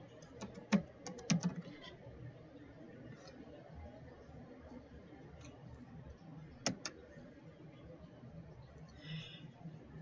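Typing on a computer keyboard while setting up Windows 10 Remote Desktop, with a few quick bursts of crisp, close key clicks and then sparse taps over a quiet room hum.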